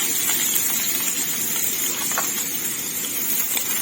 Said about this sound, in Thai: เราก็จะใส่ขิงลงไปเลย ขิงลงไปผัดค่ะ